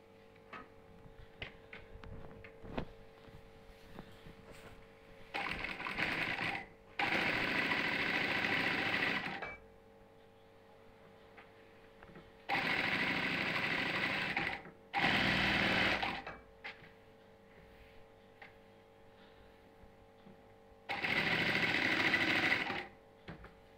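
A sewing machine stitches a cotton housecoat in several bursts of steady, buzzing motor noise, separated by quiet pauses with faint handling sounds.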